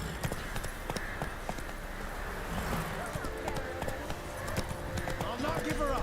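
A horse gallops in The Witcher 3: Wild Hunt, its hoofbeats a steady, fairly quiet patter set against dense game ambience, with voices speaking over them.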